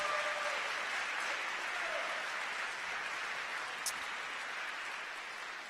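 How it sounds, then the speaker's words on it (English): A town hall audience with a congressman gives sustained applause, a dense, even roar of many hands that holds steady and tapers slightly toward the end. "Can you please give them a round of applause?"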